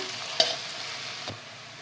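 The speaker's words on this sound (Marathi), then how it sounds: "आता ना हे तेलावरच आहे ना छानपैकी 1 ते 2 मिनटं आपण परतून घेऊया." Mixed vegetables for Gujarati undhiyu sauté in hot oil, a steady close sizzle with two brief stirring knocks from a utensil against the pan.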